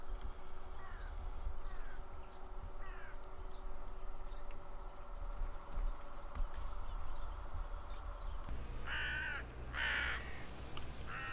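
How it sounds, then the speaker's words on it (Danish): Crows caw over decoys during a crow hunt in an open field, with repeated calls at a moderate distance over steady outdoor ambience. A louder burst of cawing comes near the end. "Heldigvis så var det ikke længe før der igen er nogle nysgerrige krager over lokkerne."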